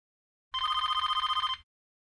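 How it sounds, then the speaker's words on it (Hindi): A landline telephone rings once, a single steady electronic trill lasting about a second, clear and alone against silence. "लैंडलाइन पे कौन फोन कर रहा है?"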